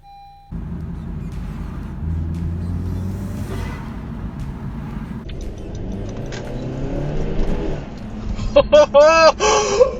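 A 10th gen Honda Civic engine starts up and idles with a steady near rumble, then revs, with excited voices and shouts near the end.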